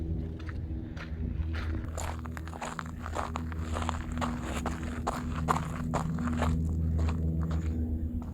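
Footsteps crunch steadily on an outdoor slope, a walker climbing uphill at a regular pace, fairly close, over low continuous background rumble.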